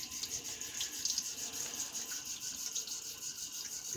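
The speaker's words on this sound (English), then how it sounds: "I'm going to go ahead and rinse this clean." Tap water runs steadily as a Zomchi Blue safety razor is rinsed clean under it, a constant close hiss with a few soft splashes and no talking.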